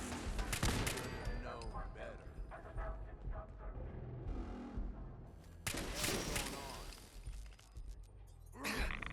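Automated turrets fire guns in Fallout 4, bursts of gunfire and shattering cracks erupting repeatedly across a busy, noisy stretch, with a loud flurry near the start and again in the middle and at the end, over game sounds.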